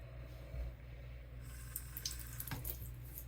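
Cool tap water runs steadily into a sink while false eyelashes are rinsed, a soft, continuous trickle with a few brighter splashes near the middle, fairly quiet and close.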